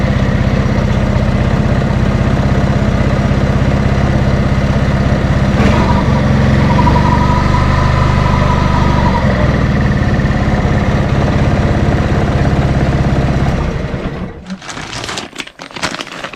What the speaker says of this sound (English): One of the smoothest, quietest engines I've ever heard on a lawnmower.